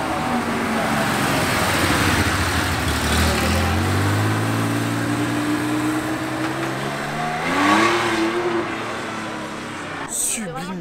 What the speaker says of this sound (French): Sublime 2 litres 7 RS, une vraie rareté qui vient de passer là.